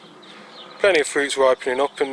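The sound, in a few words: bee buzzing around raspberry plants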